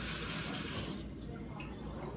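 Tap water runs steadily over a food can being rinsed in a sink, a continuous close splashing wash that thins out partway through.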